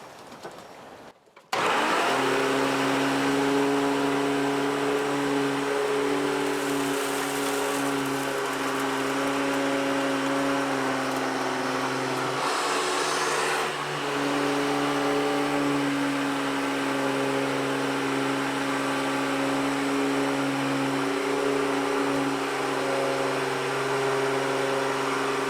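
A Hoover upright vacuum cleaner, newly fitted with a replacement belt, switches on after a brief quiet start and runs with a loud, steady motor hum and whine for the rest of the time, with no talking.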